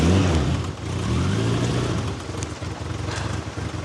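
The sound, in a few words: car engine running rough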